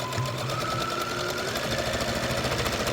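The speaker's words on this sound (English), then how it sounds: "I start on the long side, and I start sewing like kind of in the middle" A sewing machine runs steadily, stitching fabric in a continuous fast mechanical whirr that stays loud and even throughout, with no talk over it.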